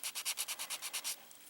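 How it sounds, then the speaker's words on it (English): Close, rhythmic scratchy sanding on a baked ball-jointed doll head, about ten quick even strokes in steady succession, then a brief quieter pause. "I'll actually sand this down some more right in here"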